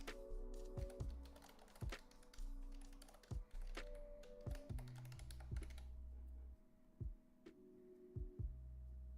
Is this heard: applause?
no